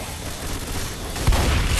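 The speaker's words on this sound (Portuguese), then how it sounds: "You are shooting me!" Gunfire in the Left 4 Dead 2 video game: a rough, noisy burst of shots rises sharply about two-thirds through, over a steady backdrop of game noise.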